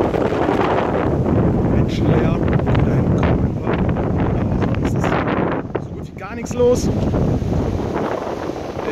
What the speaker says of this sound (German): Der Wind, der wird glaube ich immer noch stärker.